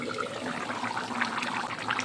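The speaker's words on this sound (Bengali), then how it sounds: "ডিমের ঝোলটা ফুটে গেছে" Egg curry broth boiling in a pan, a steady bubbling, gurgling simmer with soft liquid pops, close and continuous throughout.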